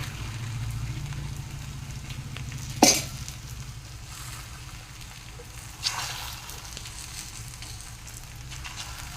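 Oil sizzles softly under a potato-cauliflower paratha frying on a pan, a continuous low crackle with a sharp clatter near the start and another brief knock later.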